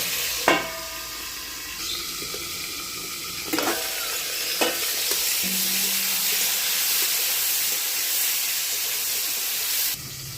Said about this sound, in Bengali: পটলটা ভাজা হোক